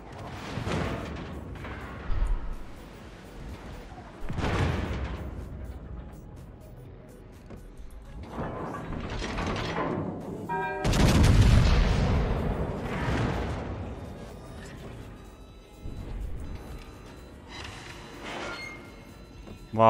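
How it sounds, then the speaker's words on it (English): Naval gun salvos fired from a warship in a battleship video game, with several deep, booming blasts spread over time, each swelling and fading, and one heavy close burst midway, all set against a low rumbling background. "Oh, that was a pretty good salvo by the Puerto Rico."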